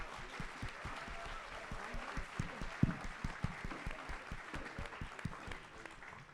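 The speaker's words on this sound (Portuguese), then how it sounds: "Uma salva de palmas para a Rosa, por favor" An audience at a literary talk about Paris claps for a guest, with individual hand claps distinct and irregular, some louder and closer, forming a moderate, steady round of applause.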